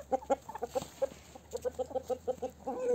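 Chickens at a backyard coop, including Brahma and Ameraucana breeds, cluck in a steady run of short, close, repeated calls over a quiet background.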